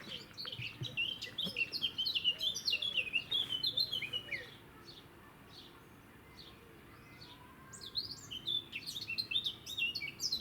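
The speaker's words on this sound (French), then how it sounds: "on entend que la fauvette est au travail" A warbler sings in quick bursts of high chirping phrases in a garden in June, pausing briefly midway before resuming, fairly close against a soft outdoor background.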